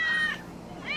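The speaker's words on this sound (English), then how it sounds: "Look at all these cats." Cats in a cat cafe meow twice, one rising cry at the start and another near the end, close and fairly clear against quiet room background.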